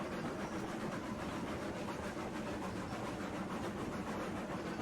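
Freight train rolling along rails in the railway game Railroads Online, a steady, continuous rumble of wheels and cars with faint clatter, unbroken throughout and free of talk.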